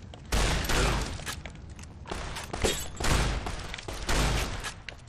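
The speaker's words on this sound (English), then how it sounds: "I shot the gun out of your hand" Rapid bursts of gunfire in the video game Fallout: New Vegas, several loud, dense volleys of shots, one after another, close and harsh with no talk.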